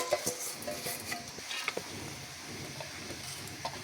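Dry rice and lentils pour into a pot for khichuri, a vegetable and meat dish. Faint scattered clinks and rustles sound close by over a low sizzle and kitchen noise.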